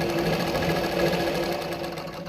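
A zigzag sewing machine runs a straight stitch on saree fabric, giving a steady, loud, close mechanical whirr with a fast even rhythm and no break.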